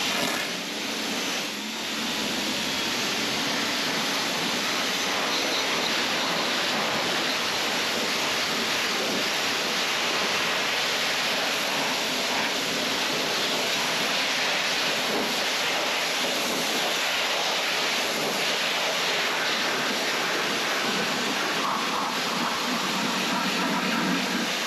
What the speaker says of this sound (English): We're gonna pressure wash it and make it look nice.